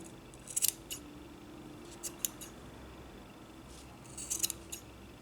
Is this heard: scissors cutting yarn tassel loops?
yes